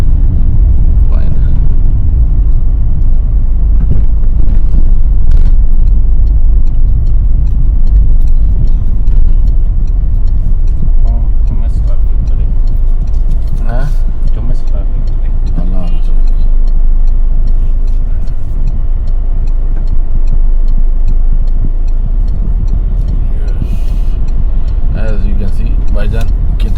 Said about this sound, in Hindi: ट्रैफिक बहुत बुरा है, अभी आप लोग खुद देख लेंगे कितना बुरा ट्रैफिक है